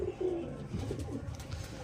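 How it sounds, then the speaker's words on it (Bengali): A male pigeon gives deep, rolling coos nearby, a few burbling phrases in a row, fairly soft and with no one speaking. "এটা নর পায়রা হ্যাঁ এটা নর পায়রা"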